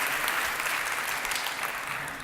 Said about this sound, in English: how about a big round of applause for the Hacking Paris team?